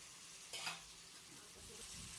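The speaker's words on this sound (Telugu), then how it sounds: "ఇప్పుడు కొంచెం మగ్గిన తర్వాత కరివేపాకు కొత్తిమీర కూడా వేసుకొని బాగా మగ్గించుకోవాలండి" Curry leaves and coriander frying in a pan for a homemade ridge gourd chutney, a faint, steady sizzle with one brief stir near the start, heard alone.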